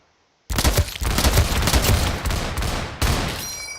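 Sniper rifle shots in Roblox, two loud sharp cracks roughly two and a half seconds apart, each with a long ringing tail that fills the gap, coming after a moment of near silence.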